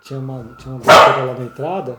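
A dog barks indoors in one sharp, loud, close burst as a person keeps talking over it.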